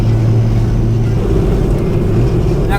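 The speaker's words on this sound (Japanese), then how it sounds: "でも風の音がすごいね。" Loud, steady wind rush fills the open cabin of an Abarth 124 Spider turbo roadster at driving speed, with a low engine drone running underneath throughout.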